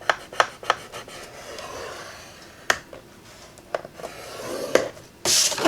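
Card stock being scored for a pop-up card, a few sharp, close clicks and short scraping strokes spaced irregularly, ending in a brief louder rub, no talking.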